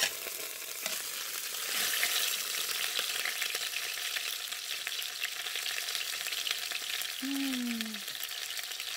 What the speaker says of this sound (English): I love the smell of browning beef in the morning.